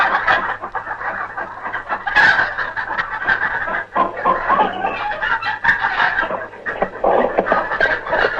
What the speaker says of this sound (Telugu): ఫారం ఎలా ఉంది, కోడి ఎలా ఉన్నాయి?